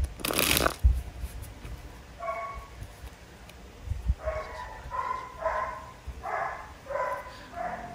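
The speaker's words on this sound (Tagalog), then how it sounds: "sorry sa tahol ng aso" A dog barks several times in the distance in a loose series of short yelps, following a loud rustling burst at the start.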